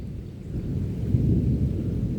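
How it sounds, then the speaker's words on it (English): Deep, low thunder rumbling steadily and growing slightly louder, with a soft hiss of rain beneath and no voices. "Well, listen to thunder."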